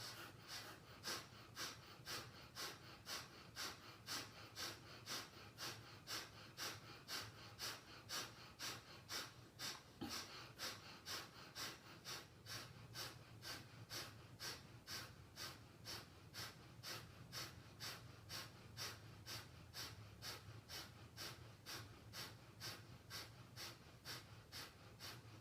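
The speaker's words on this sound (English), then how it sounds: "continue with the Smooth breath of fire" Rapid, rhythmic yogic breath of fire during a Kundalini yoga practice, steady forceful nasal exhales pulsing about twice a second, close and even, continuing alone without speech.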